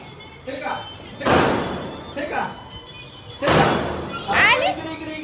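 Two sharp firecracker bangs thrown during Diwali celebrations burst out a couple of seconds apart, close and loud, with children and adults chattering and exclaiming around them.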